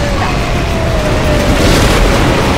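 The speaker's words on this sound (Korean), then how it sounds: "정말 폭발은 예술이다." A StarCraft II co-op explosion from a blasted mine booms loudly and continuously, a dense low rumble that fills the whole stretch alongside a faint whistling tone, with game voice under it.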